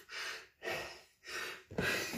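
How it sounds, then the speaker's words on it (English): Person gasping for breath after a bodyweight workout, four heavy breaths in a quick rhythm, close and loud, with the last one rougher and deeper. "Gasping. Difficult to breathe."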